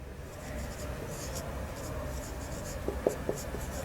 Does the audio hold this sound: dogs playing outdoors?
no